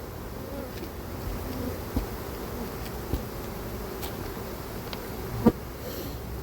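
A dense, steady buzz of many bees swarms around a hive. The drone holds at the same level throughout, with a few faint ticks and taps and no talking.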